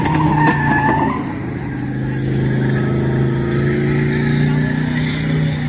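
Race cars lapping a track in rain or shine, a loud sustained engine drone with a rising whine passing close by, continuous throughout.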